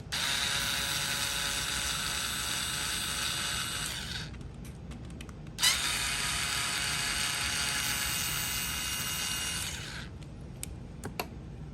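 A Phillips screwdriver, apparently powered, backs screws out of the front of a Mixmaster Junior mixer. Two long, steady high buzzing runs of about four seconds each are split by a sharp clunk, then a few faint clicks follow. No one talks.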